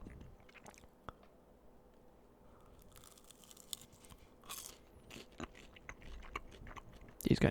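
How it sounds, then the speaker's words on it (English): A crunchy spring roll bitten and chewed close to the mic, a few crisp crackling bites followed by steady moist chewing and crunching, with a louder crunch at the end, no talking. "I didn't think it was very crunchy when I first bit into it, but it is."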